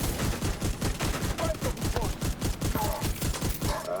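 Rapid SMG gunfire in a video game rattles out in dense, steady bursts for the full stretch, loud and close, with a few faint electronic tones mixed in.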